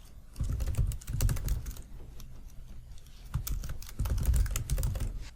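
Keys clatter on a computer keyboard as an email address is typed, in two close, busy bursts of tapping separated by a brief lull, with no talking.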